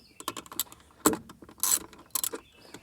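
Small 10mm nuts being loosened with a hand tool while removing a speaker from a Subaru door: a run of quick, light metallic clicks and rattles in short bursts, close up, with no talking.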